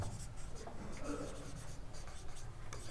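A pen writes during a class 12 three-dimensional geometry lesson, making soft scratchy strokes in a continuous, uneven rhythm at close range with a low background hum.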